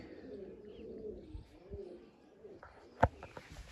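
Pigeons, tumbler birds kept at home, give soft low coos close by in a quiet setting, followed by one sharp knock or flap near the end.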